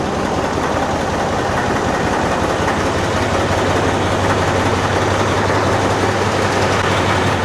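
A tractor engine drones steadily at close range while the vehicle is driven, a loud, unbroken low rumble with a sustained hum and no talk over it.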